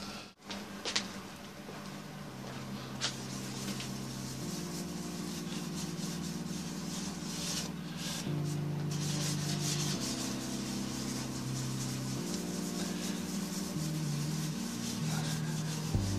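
A cloth rubs walnut oil finish into a turned larch wood bowl, a steady continuous scrubbing texture that changes slightly in pitch as the bowl spins on the lathe, close and fairly loud, with no talking.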